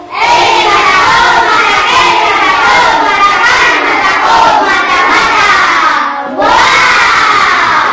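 A classroom group of teacher trainees at Universitas Negeri Malang shouts a loud, continuous unison clapping chant, voices overlapping in a dense crowd roar with a brief dip near the end before resuming.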